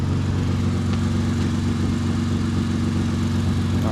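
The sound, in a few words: Lexus IS350 aftermarket exhaust running, slight exhaust leak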